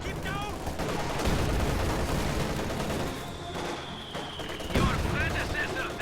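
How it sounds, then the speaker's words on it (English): Heavy mortar fire in a competitive video game match, a dense, continuous barrage of booms and blasts that holds steady for several seconds, with voices mixed in. "those heavy mortars are just killing everything"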